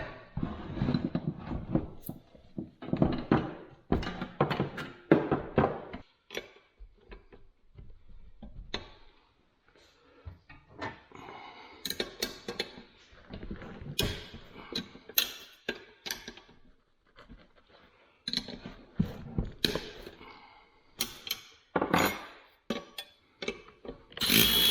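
Hand and power tools at work removing a pillow bearing from a Kubota, with bursts of whirring and ratcheting, metallic clanks and ticks in irregular clusters, separated by short quieter gaps, close by.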